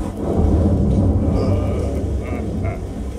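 A stage thunderstorm effect rumbles during an outdoor performance of King Lear, with steady rolling thunder and a rain-like hiss, fairly loud and unbroken, with no voices.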